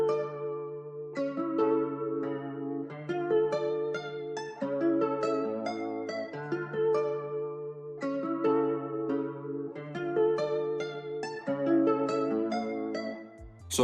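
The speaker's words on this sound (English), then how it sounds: "Once all those effects have been applied, the guitar now sounds like this." Nylon-string Spanish guitar sample processed with effects in FL Studio plays a melodic loop of plucked notes over sustained bass tones, clean and moderately quiet with no talking.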